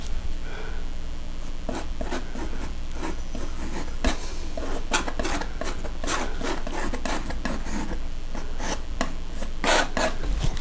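Oil paint scraped across a canvas: a continuous run of close, dry rasping strokes with quick scratchy accents throughout, no voice.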